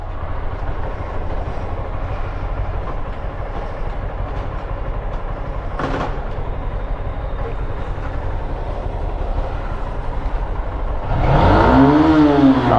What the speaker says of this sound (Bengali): ফুল থ্রোটল দিয়ে দেখবো যে 6000 RPM হিট করতেছে কিনা।